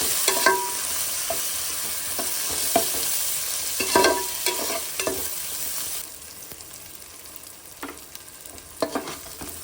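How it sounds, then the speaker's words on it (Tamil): Curry leaves and mint sizzle and crackle in a hot pan while a spoon scrapes and stirs now and then, the frying settling down softer partway through. "நெக்ஸ்ட்டு கருவேப்பிலை போட்டு நல்லா வதக்கிக்கணும்."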